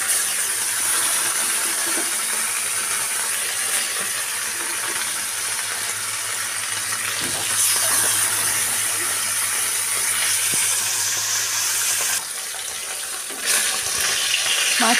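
Bata fish, washed and cut, dropped into hot oil in a home kitchen, giving a steady loud sizzling hiss with spattering that runs nearly the whole time, close by, with no talk.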